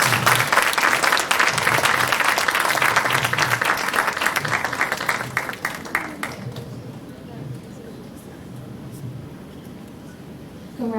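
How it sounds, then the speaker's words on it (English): Audience applause for poster winners at a student research poster exhibition and contest, steady loud clapping that fades after about six seconds into lighter scattered claps, with voices murmuring underneath. "Please give them a big round of applause."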